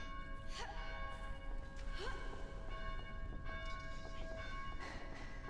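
A bell rings repeatedly in the video game Dead Island, with sharp strikes and long, sustained ringing tones over a steady, dense background din.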